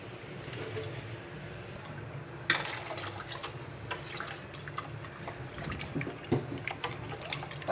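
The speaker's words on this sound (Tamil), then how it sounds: "நம்ம தேவைங்கிற அளவுக்கு தண்ணி வச்சுக்கலாம்." Water poured into a cooking pot for mango and horse gram sambar, a steady liquid splashing with scattered drips and a sharp clatter near the middle, close and moderately loud with no talk.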